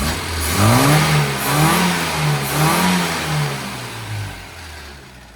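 A car engine, recently changed to 20W-50 oil and freshly tuned, revs and accelerates on a road test drive, pulling up through several rising surges before easing off, loud and close.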